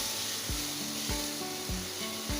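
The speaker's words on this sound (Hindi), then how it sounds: "इसको हमने बटर में अच्छी तरह फ्राई कर लेना है, भून लेना है।" Chopped onion and flour frying in butter in a pan, a soft, even sizzle broken by four regular scraping strokes of a spoon or spatula, close and fairly quiet.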